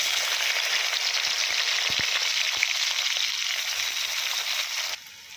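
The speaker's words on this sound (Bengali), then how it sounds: "এখন আমি ডিমা শাক ভাজি করার জন্য তেলেতে পেঁয়াজ দিয়ে দেবো।" Onions hiss and crackle in hot oil for village-style gima greens, a loud, steady close-up sizzle with a few soft taps. It drops off sharply near the end.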